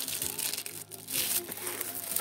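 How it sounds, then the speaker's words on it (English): Bubble wrap crinkles and crunches as it is peeled off a hand-blown glass baby bottle, a steady close rustle with a few sharper crackles, no talking. "Nicely wrapped with bubble wrap."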